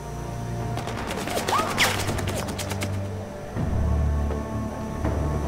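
Gunfire in the video game Sniper Ghost Warrior Contracts 2: a volley of sharp, rapid shots crackles over a steady low engine-like drone, then fades into the continuing background hum.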